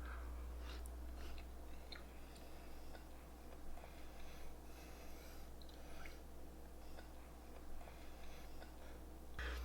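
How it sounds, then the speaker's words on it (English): Faint, close chewing of a bite of food seasoned with a chipotle, onion and garlic brisket rub: soft irregular crunches and mouth clicks over a low steady hum, with no talking. "Let me get another bite here."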